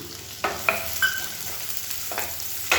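Chopped large onions fry in a pan with a steady, close sizzle, broken by a few sharp clacks of a utensil stirring against the pan; no one speaks.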